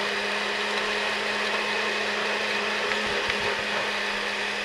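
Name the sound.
blender pureeing chilies for mole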